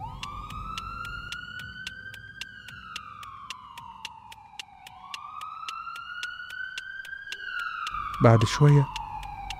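Police and ambulance sirens: a wailing siren rises and falls in slow sweeps over steady pulsing tones, fairly close, with someone speaking briefly near the end.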